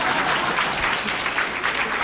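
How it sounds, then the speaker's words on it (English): Audience applause at a Rotary Club century dinner, a loud, dense wash of many hands clapping together that holds steady throughout. "So, yeah, you can clap for me."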